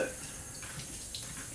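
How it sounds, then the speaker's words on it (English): Raw chicken breasts are rinsed under a running tap, giving a steady, close rush of water that stays level for the whole moment. "I'll rinse it again."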